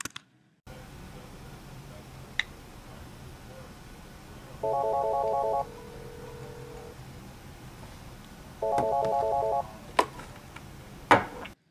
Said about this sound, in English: Leo is at his desk, so he picks up the call on his Polycom desk phone